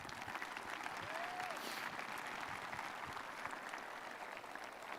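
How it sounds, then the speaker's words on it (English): Sustained audience applause at a high school graduation ceremony, broad steady clapping from a large crowd, moderately distant, filling the whole stretch with no pauses. "a round of applause for our performers."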